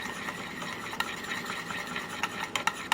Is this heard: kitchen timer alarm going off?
no